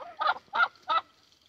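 Three evenly spaced, honking cluck-like calls from a hen on a small farm in the woods, close and clear against a quiet background.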